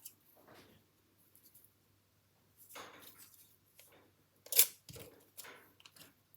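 Scissors trimming a paper craft card with ribbon, heard as several quiet, close snips and rustling paper handling scattered across a mostly silent stretch, with one sharper clip near the end and no talking.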